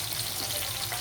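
Onions with green chillies sizzling in hot oil in a pan, a steady close crackle and hiss with no talking.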